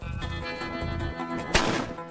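A rifle bullet strikes a block of C4 with no explosion, heard as a single sharp crack that rings out briefly over a steady background hum.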